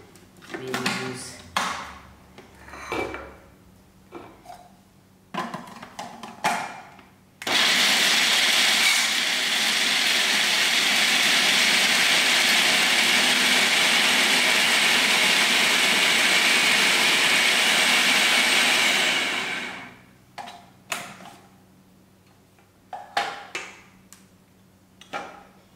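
A grinder churns dry dhal in one loud, steady grinding roar that lasts about twelve seconds, with clicks and knocks of handling before and after.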